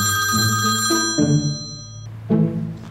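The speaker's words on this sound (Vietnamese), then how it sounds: "anh có điện thoại nè" Indoor telephone ringing with an incoming call: a loud electronic ring of bright sustained tones, with fresh rings starting at about one-second intervals, and no voices.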